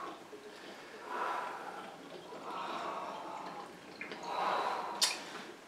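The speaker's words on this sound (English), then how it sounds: "Look how slow this thing pours out." Liquid for a punch cocktail pours out slowly, giving faint, soft watery gurgles that come in a few separate bursts, with quiet breathy noise between them.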